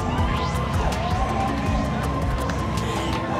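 Crowd noise from spectators along the London Marathon 2021 route, cheering a passing runner: a dense, steady roar of voices and shouts with scattered sharp claps, close and loud throughout.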